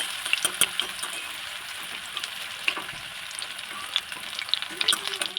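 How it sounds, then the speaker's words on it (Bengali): Chicken satay frying in white oil in a home kitchen pan, a crackling sizzle with scattered sharp pops and spits across the whole stretch, close by and without speech. "চিকেন স্যাটেগুলোকে লাল লাল করে ভাজা যাক"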